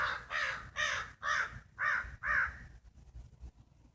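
Pet crows give five loud, harsh caws in a steady rhythm close by, then go quiet with only faint background noise.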